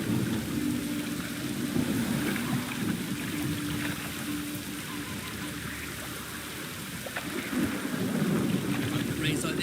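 Rain with thunder in The Witcher 3, a dense steady hiss of downpour with low rolling rumbles underneath, continuous and fairly loud throughout.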